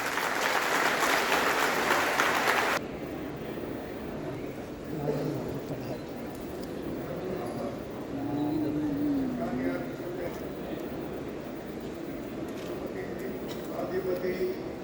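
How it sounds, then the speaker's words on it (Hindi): Applause from the audience at a university convocation ceremony, a dense burst of clapping lasting about three seconds before cutting off, followed by a quiet hall with faint voices. "कृपया तालियों की गड़गड़ाहट से"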